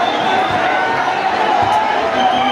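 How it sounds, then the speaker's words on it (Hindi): A huge crowd of devotees at the Radha Rani temple in Barsana during Laddu Mar Holi makes a steady, loud murmur of many voices, a continuous wash of distant chatter without distinct shouts. "लाखों भक्तों की भीड़, लाखों राधा के दीवाने"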